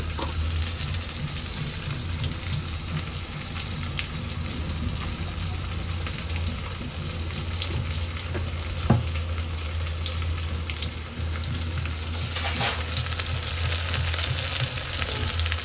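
Onions fry in mustard oil with a steady, close crackling sizzle, interrupted by a brief clink partway through.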